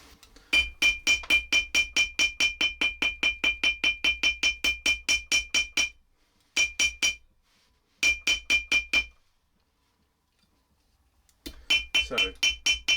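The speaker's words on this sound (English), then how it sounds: "So I'm just shaping it over the end of the anvil using this small ball peen hammer." A small ball peen hammer shapes thin copper plate about half a millimetre thick over the end of an anvil, with rapid bright metallic taps in bursts separated by short pauses, close and ringing.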